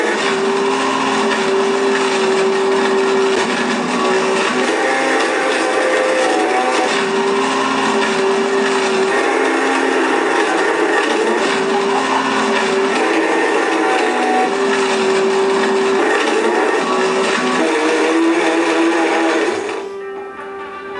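A Blendtec Total Blender grinding up an iPad, a loud continuous motor roar with shifting pitch that runs steadily for about twenty seconds before cutting off near the end.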